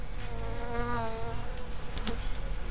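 A dense, steady buzz of many honeybees hums close by inside a hive, a continuous droning swarm sound with no talking.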